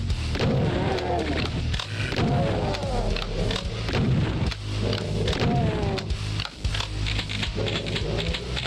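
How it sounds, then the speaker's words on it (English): Heavy gunfire and booming shots from classic Doom 2 rattle out in steady, rapid bursts, layered over low rumbling game sound and monster noises, with a voice talking at times. "Who the hell is shooting at me?"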